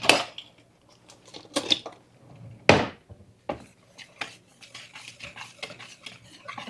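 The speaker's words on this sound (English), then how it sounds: "now then we're going to mix all this up" Spoon clattering and scraping against a bowl while gingerbread spices and dry ingredients are stirred together, irregular clinks and taps with brief quiet gaps between strokes.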